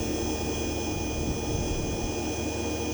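A 20 kW BLDC motor powertrain spinning at no load on 80 volts, a steady whirring hum with a high electrical whine, constant and close with no talking.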